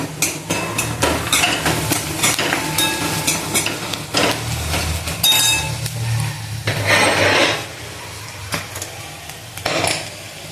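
A spoon stirs garam masala, coriander powder and turmeric into dal palak in a pot, producing repeated metallic scrapes and clinks at an irregular rhythm, close and fairly loud, with no talking.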